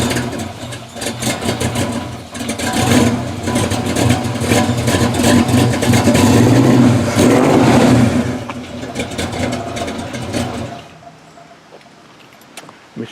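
A 1948 Hudson car engine heard from behind the car revs and holds a loud, steady mid-pitched roar, then drops away abruptly to near silence near the end.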